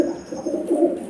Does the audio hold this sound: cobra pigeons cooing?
yes